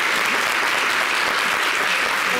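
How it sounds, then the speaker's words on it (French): A studio audience gives loud, dense, continuous applause for a pair of magicians after a mind-reading trick, with many hands clapping steadily throughout. "Ça s'applaudit d'abord"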